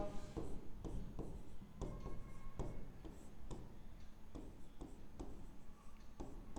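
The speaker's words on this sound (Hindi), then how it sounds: "अब अगली लाइन क्या लिखेंगे हम" Pen writing a line of text on a board or paper, a steady scratching run of strokes with short pauses between words, close and moderately loud, with no talking.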